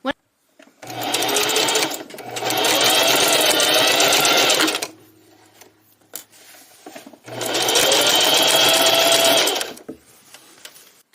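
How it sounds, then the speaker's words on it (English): A sewing machine stitches reusable shopping bag fabric with its right sides together, running in two loud, steady bursts of rapid whirring separated by a pause with quieter handling noises. "I am sewing, like I mentioned, right sides together"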